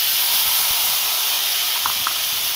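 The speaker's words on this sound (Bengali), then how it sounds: "এবার আমি মশলাগুলিকে ভালো করে ভেজে নেব" Spice paste fries in hot oil, giving a steady, loud, broad hiss that runs unbroken throughout, with a couple of faint clinks near the end.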